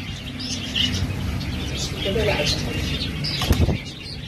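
Collared doves for sale at a bird market on the Diyala Bridge, with soft cooing, chirps and a brief burst of wing flapping heard near the end, amid a busy market background with people talking.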